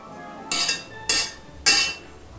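Excess oil is wiped off a cast iron pan in three short, bright scraping strokes about half a second apart, close and fairly crisp against a quiet room.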